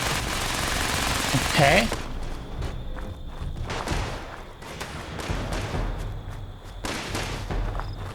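Gunfire in Fallout 76, an opening rapid automatic burst followed by scattered loud single shots and thumps across the clip, with a brief spoken word.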